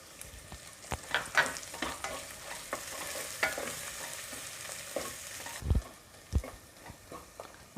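Onions and ginger-garlic paste sautéing in a pan for mutton curry: an irregular run of spoon scrapes and clinks against the pan over a low, steady sizzle, close by, with no talking.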